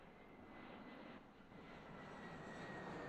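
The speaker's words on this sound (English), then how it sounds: "That's Peach's plane." Peach's plane flies in Super Mario Sunshine on the Nintendo Switch, a steady, faint propeller-aircraft engine drone that swells slightly toward the end, with no talk over it.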